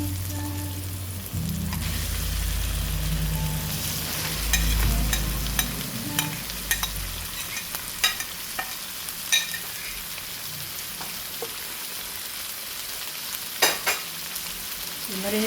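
Ground chicken guisado fries in a pan, a steady hissing sizzle like rain on a surface, with a low rumble early on, then scattered clinks and scrapes of a spoon stirring the meat; nobody talks.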